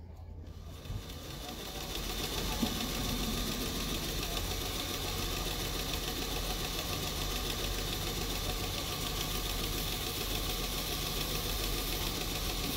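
A Palmgren sharpening machine runs steadily at 900 RPM, a continuous even mechanical hum and whir with faint rhythmic vibration, close and unbroken after a brief quiet start.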